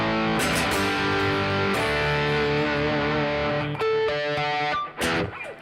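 Electric guitar through an amp with gain, set thin with the bottom end rolled off for a crunchy tone: loud sustained distorted chords ringing with a short rhythmic break near the end.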